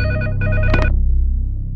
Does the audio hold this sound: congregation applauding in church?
no